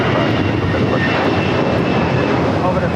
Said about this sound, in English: This is Air Canada 555 taking off to Vancouver on the A320.